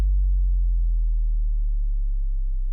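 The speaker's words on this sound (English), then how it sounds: "This right here is a sub sweep at the start." A deep, pure sine tone sweeps smoothly downward in pitch, steady and alone, with no other sounds.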